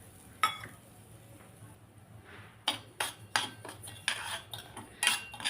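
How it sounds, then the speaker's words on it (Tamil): Semolina roasting in ghee in a pan, heard as quiet, intermittent metallic scrapes and clinks of a spatula against the pan that grow busier toward the end, close and fairly soft. "இப்போ இந்த நெய் இருக்குது பாருங்களேன் அதிலே வந்து இந்த ரவையை போட்டு வறுத்துக்கலாம்"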